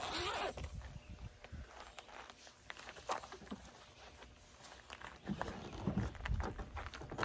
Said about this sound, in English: we got waterproof, weatherproof zipper right here. Let's open this bad boy up.